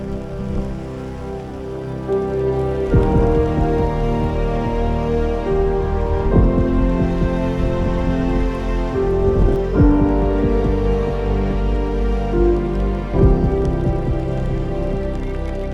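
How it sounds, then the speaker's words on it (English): Steady rain falls on a hiker in a raincoat along the Inca Trail in Peru, a dense continuous patter with some heavier bursts, close and constant throughout with no talk. "Hiking with the rain is awful."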